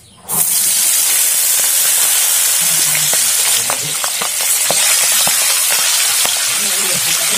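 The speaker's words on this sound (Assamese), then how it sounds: "তেতিয়াহ'লে আমি ধুনীয়াকৈ মাছটো ধুনীয়াকৈ ফ্ৰাই কৰি লওঁ" Fish fries in hot oil for an Assamese fish fry, a steady, close, loud sizzle with scattered sharp crackles and pops throughout.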